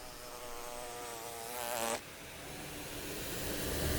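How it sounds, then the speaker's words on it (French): A bee flying fast drones close by, its pitch wavering, then briefly rising louder before settling into a steady hum. "Je suis l'abeille qui vole à toute vitesse."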